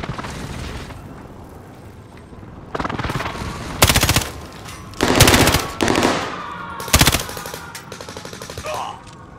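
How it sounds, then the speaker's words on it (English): Enemy precision airstrike and gunfire in Call of Duty: Modern Warfare: sharp, loud bursts of automatic fire and booming impacts come in irregular clusters, with a faint voice in the background. "Enemy precision airstrike."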